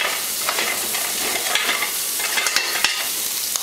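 Hash browns crackle and sizzle in a cast iron pan during breakfast cooking, with steady close frying and a few soft scrapes and clicks from stirring, and no talk.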